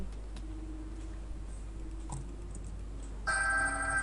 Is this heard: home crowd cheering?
no